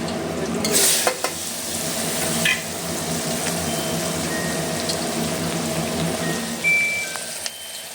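Onion and mixed vegetables frying in a spice tempering on a Rajkot-style tava give off a loud, continuous sizzle, with a few sharper scrapes and clatters from stirring near the start.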